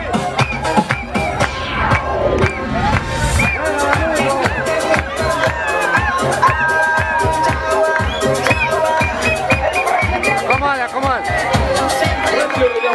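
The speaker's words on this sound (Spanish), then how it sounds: "Gracias, el aplauso fuerte." A crowd at a costume dance contest in Cariamanga cheers and claps loudly and continuously, with shouts, voices and tonal sounds layered through the din.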